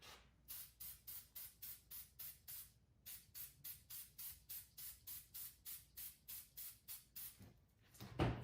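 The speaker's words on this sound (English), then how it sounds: "Spray." Close, quiet bursts from a hand spray bottle misting model scenery, about twenty short hissing puffs in a steady rhythm with one brief pause, followed by a soft rustle at the end.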